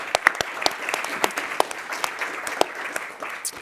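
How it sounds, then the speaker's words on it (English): Audience applause at a climate discussion event, a dense, steady patter of many hands clapping throughout, fairly close and loud, with no talking. "Let's give them a round of applause for."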